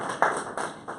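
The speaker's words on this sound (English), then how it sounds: "I think you deserve a round of applause also." A brief burst of audience clapping at a formal address on transport administration, dense and fairly close, swelling suddenly and then holding steady for about a second.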